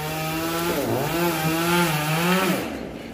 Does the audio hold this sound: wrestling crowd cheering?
no